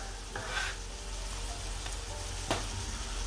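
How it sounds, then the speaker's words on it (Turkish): Garlic cloves frying in a pan alongside onions for Turkish imam bayıldı give a steady, moderate sizzle throughout, with a couple of brief utensil clicks partway through. "Sarımsaklar da tavaya"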